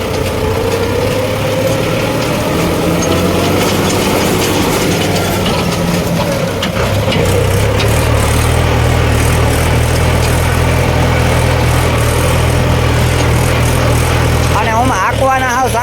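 Tractor engine running loud and close with a steady low rumble and rattling mechanical clatter throughout, while people talk over it in a village setting.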